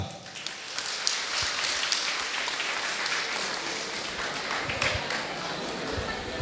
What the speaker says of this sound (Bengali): হাতে একটু হাততালি দাও।